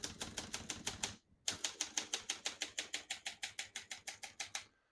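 Rapid, steady keystrokes clatter from a 1962 Hermes 3000 portable typewriter, close and crisp, with a brief pause near the start before the even rhythmic typing resumes.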